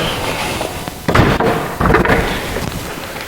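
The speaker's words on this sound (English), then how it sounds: "So that's as far as the door will open." A door swings open and knocks against its stop twice, two sharp thuds over a low background of workshop noise.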